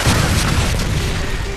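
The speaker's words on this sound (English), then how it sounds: "Friendly Predator missile inbound." A Predator missile explodes in Call of Duty: Modern Warfare 2, a loud, sustained booming roar with rumbling low end that fills the whole short moment, with no voices over it.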